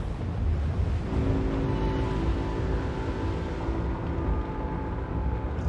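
Ocean waves in the video game Little Nightmares, a steady, dense wash of surf and rumbling water with a low drone, continuous and fairly loud with no talking.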